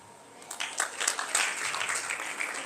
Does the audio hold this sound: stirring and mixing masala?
no